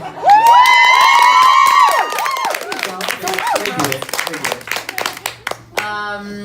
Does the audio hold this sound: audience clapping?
yes